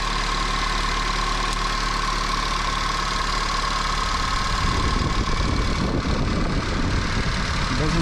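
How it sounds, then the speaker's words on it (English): A turbocharged 8th-gen Honda Civic fitted with Acura RDX 410cc injectors idles close by with a steady low hum, its engine note turning rougher and more uneven in the second half. "I'm gonna let it idle a little bit here"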